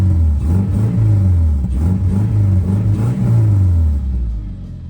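A Subaru Outback engine idling roughly and revving up and down several times, loud and close with a deep rumble.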